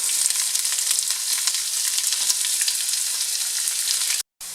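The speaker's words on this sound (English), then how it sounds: "Let's go ahead and add some onions." Onions going into hot oil with golden-brown ginger and garlic, a steady loud close sizzle that runs unbroken for about four seconds before a brief dropout, with no talking.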